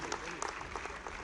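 A crowd claps to welcome a performer onto the stage at a live cultural heritage celebration attended by the chief minister. The applause is fairly faint and crackly, with an announcer's voice heard over it.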